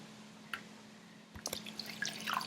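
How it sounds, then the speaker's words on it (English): Water is poured in while making a creamy vegan mushroom stroganoff, with soft splashes and trickling drips over a low steady hum, growing busier toward the end. "I'm adding 2 more cups of water now"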